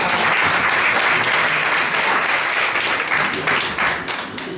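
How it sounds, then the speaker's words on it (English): Audience applause at a community board meeting, a dense steady burst of clapping from a room full of people lasting several seconds, close and loud, easing slightly at the end. "definitely just give him a little round of applause"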